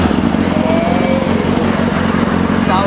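A custom motorcycle with an Akrapovic titanium exhaust and a custom engine map runs loud and close, giving a dense, steady burbling engine rumble with no pause.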